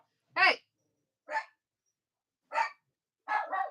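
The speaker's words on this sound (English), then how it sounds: "so now the dogs are all riled up." Dogs bark in four short, separate bursts indoors, fairly close and loud, with silence between each bark and no talking over them.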